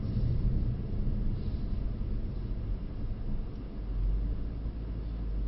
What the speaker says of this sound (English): So just listening to the exhaust mate